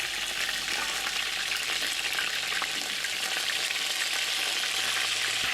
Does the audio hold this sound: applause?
no